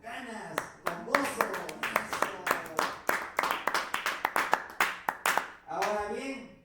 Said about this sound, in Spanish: cuando sea un aplauso al Señor, déselo fuerte, con ganas, con gozo.